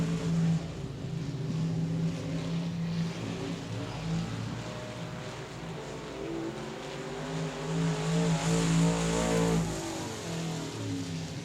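Several stock cars race around the oval at South Texas Speedway, their engines a steady, droning roar with shifting pitch as the pack rolls through a turn, heard at a distance with no voices.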